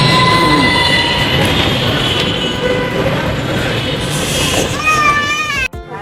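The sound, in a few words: metro train arriving at station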